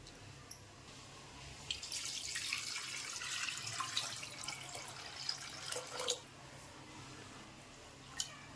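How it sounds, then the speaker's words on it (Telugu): Water poured over tamarind and tomatoes in a bowl while the juice is squeezed out, a faint splashing trickle that swells and fades with a few soft drips. "ఇప్పుడు ఇందులో ఇంకొన్ని నీళ్ళు పోసుకొని మొత్తం అంతా రసం తీసుకుందాం"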